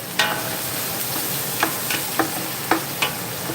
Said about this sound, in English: While the onion is cooking